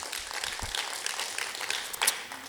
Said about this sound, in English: yes, we can clap for social justice.